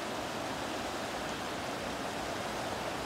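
The Arkansas River flows through Bighorn Sheep Canyon with a steady, even rush of moving water, a close and continuous broadband wash with no pauses and no voices.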